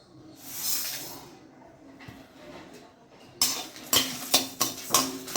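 Rice and two dried red chillies dry-roasting in a pan without oil, with a soft rustling sizzle and then a run of sharp scraping and clinking as the grains are stirred and tossed against the pan.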